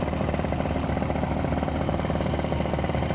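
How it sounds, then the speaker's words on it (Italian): Simonini Mini 2 two-stroke paramotor engine with a float-bowl carburetor on a Flyproducts frame holds a loud, rapid, steady idle buzz throughout, close and alone. "Il motore torna al minimo subito."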